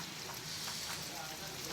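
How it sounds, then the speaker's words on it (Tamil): Onions sautéing in oil in a large pot for a big batch of vegetable biryani, giving a steady soft sizzle, with a voice speaking over the cooking. "வெங்காயம்லாம் நல்லா வதங்கிட்டு இருக்கும் போது"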